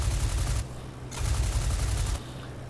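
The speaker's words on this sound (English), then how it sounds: "I'm going to take a few shots at him and then break it off" Aircraft machine guns firing in the IL-2 Flying Circus flight game during a dogfight: two short bursts of rapid fire over a constant engine drone.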